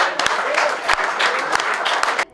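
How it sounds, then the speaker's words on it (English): Applause from a gathering of motorcycle riders at the end of a Honda SA adventure ride event, dense steady clapping with a few sharp louder claps for about two seconds before cutting off. "a round of applause to everyone who made it without a bad injury today"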